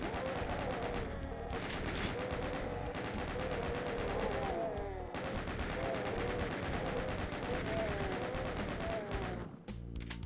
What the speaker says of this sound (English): we're going to use our chain gun and mow them all down